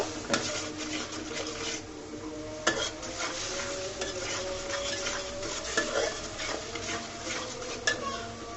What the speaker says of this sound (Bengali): লাল মরিচের গুঁড়া। দিয়ে মশলাটাকে ভালো করে কষিয়ে নিব।